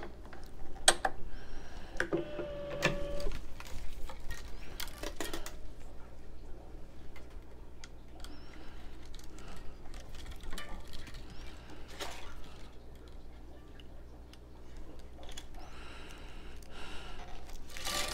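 A tennis racquet stringing machine clamp being worked, giving scattered close mechanical ticks and clicks with small metallic knocks over a low steady hum, no voices.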